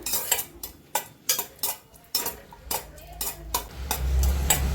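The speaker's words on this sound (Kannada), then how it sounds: "ಡ್ರೈ ಗ್ರೇಪ್ಸ್ ತುಪ್ಪದಲ್ಲಿ ಹುರ್ಕೊಂಡ್ಬಿಡೋಣ" A spoon clicks and scrapes repeatedly against a pan while dry grapes fry in ghee, sharp metallic taps in an uneven rhythm with a faint sizzle building underneath toward the end.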